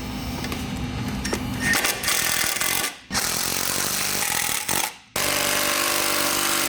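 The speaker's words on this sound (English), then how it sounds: "replace this plastic back into its original position and fasten it down" A power tool fastens a plastic panel back in place while a BoonDocker intercooler is installed on a Patriot Boost snowmobile, running in loud sustained bursts with two short pauses, close up and without talk.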